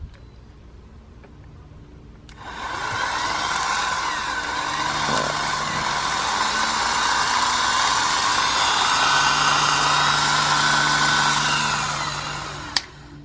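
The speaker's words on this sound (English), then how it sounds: "okay, starter works" A Nissan 240SX starter motor, bench-tested with a 12 volt battery and jumper cables, spins for about ten seconds as a loud, steady, high whir. It starts suddenly, holds constant, then cuts off with a click.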